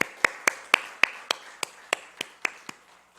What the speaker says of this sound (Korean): 우리 응원의 박수 한번 보낼까요?